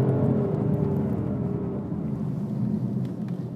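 BMW car accelerating hard on the Mondello track, a loud, steady low engine drone filling the whole stretch with little change.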